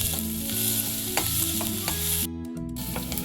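Capsicum and onion roasting in a pan: a steady close sizzle with stirring taps, heard alongside a humming tonal background.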